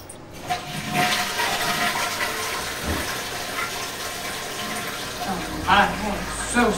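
A household toilet flushes loudly and close by, with a rushing, gurgling swirl of water that holds steady for several seconds before the tank begins to refill.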